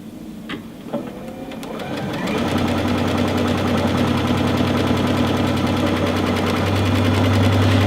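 A sewing machine stitches a buttonhole, starting with a few clicks and then settling into a steady, fast mechanical hum and rattle that runs continuously and grows slightly louder near the end, close and alone.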